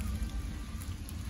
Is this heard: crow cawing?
no